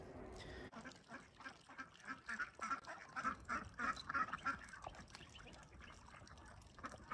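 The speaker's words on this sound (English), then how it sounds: "And there's our ducks." Khaki Campbell ducks on a farm give a quiet run of repeated quacks, moderately distant, over low outdoor background noise.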